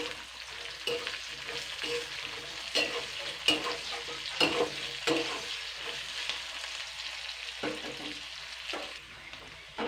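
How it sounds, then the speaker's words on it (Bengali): Chopped onions fry in a pan and are stirred repeatedly, a steady sizzle broken by rhythmic scraping strokes of the spatula, close and alone with no talking. "এবারে আমি পেঁয়াজ কুচানোটা দিয়ে দিচ্ছি। পেঁয়াজ কুচানোটা দিয়ে আমি 3-4 মিনিট ভালো করে নেড়ে চেড়ে"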